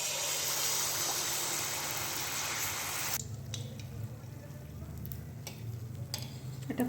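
Mango malpoa batter frying in hot oil gives a loud, dense sizzle for about three seconds, then settles into a quieter, steady bubbling with a few small ticks and pops.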